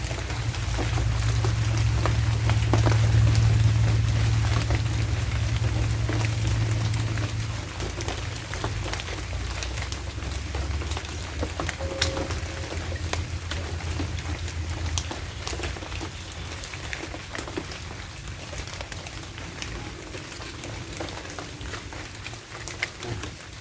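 Heavy rain pours down on a rural provincial spot during a typhoon, a dense steady wash of patter with a deep low rumble that is strongest early on and eases slightly later.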